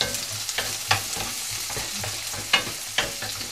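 Onions sautéing in a pan for tuna dry fish thokku, a crackling sizzle with quick spatula stirs and a few sharp scrapes close by, no one speaking.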